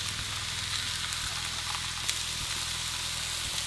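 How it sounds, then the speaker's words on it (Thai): A thick herb-marinated chicken breast sizzles steadily in a pan, a constant close frying hiss with a low rhythmic hum underneath. "ไก่ของเราเนี่ยมีชิ้นหนามากๆนะครับ เพราะฉะนั้นเนี่ย เดี๋ยวเราจะ ย่างไปสักแป๊บหนึ่งก่อน"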